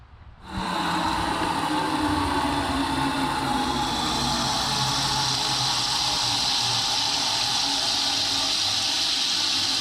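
Fresh garden water rushing into a crab steaming pot, starting abruptly and then holding a loud, steady hissing gush that continues without a break.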